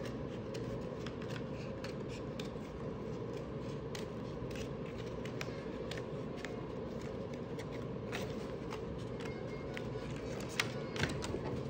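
Scissors snip through collagraph printmaking material in quick, steady, close cuts, continuing throughout as a rhythmic crisp rustle with a faint hiss underneath and no talking.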